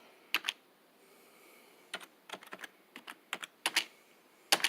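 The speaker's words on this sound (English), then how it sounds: "so now I can type 280R" Keys clack on a Replica 1+ computer keyboard in short scattered bursts of a few presses each, close and crisp against a quiet background.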